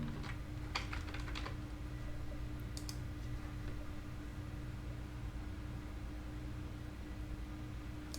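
Quick, light keystrokes on a computer keyboard come in a short burst near the start, then a few more taps follow. After that only a steady electrical hum fills the rest of the quiet stretch.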